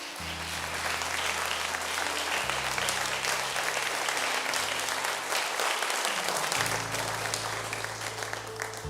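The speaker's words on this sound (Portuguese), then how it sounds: "Palmas para Jesus." A church congregation claps steadily and densely for several seconds, a thick continuous wash of applause with sustained low keyboard tones underneath.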